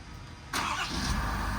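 A 2022 Ford F-550 work truck starts remotely: quiet surroundings, then a sudden crank and catch as the engine fires and settles into a steady idle.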